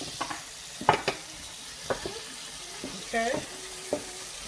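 Sweet pepper fries in a pan beneath intermittent stirring scrapes and light clinks, a soft sizzle running underneath while someone speaks briefly.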